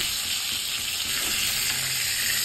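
Rui fish and potatoes frying in oil in a wok, a dense, continuous close sizzle throughout with no talking.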